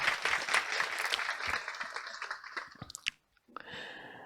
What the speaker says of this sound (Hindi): इनके लिए आप ताली बजाइए।